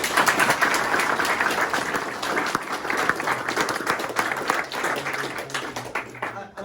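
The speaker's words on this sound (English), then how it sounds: "give them a round of applause." A crowd at a Muslims For Britain political gathering bursts into applause that stays full and lively for several seconds before thinning out, with faint voices mixed in.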